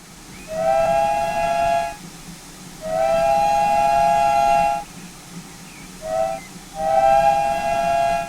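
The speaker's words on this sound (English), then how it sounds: "I still like the sound that results from blasting both whistles at the same time." Steam locomotive whistles of a GWR 2251 class engine in a train simulator sound in three loud sustained blasts, two whistles together with a hissing edge, separated by brief pauses over a low chuffing background.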